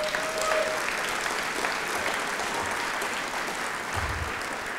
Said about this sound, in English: Can we have a round of applause for so far?